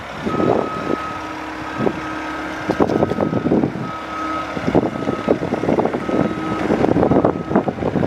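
A 2021 Bobcat T66 compact track loader engine revs up, a rumbling drone that grows louder toward the end, with a reversing alarm beeping at a regular pace over it.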